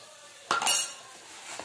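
A utensil scrapes and clinks against a pan while paneer bhurji is stirred briefly at the end of cooking, giving two quick metallic knocks followed by a faint tap, heard close and alone.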